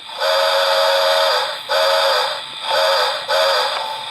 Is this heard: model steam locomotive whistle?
yes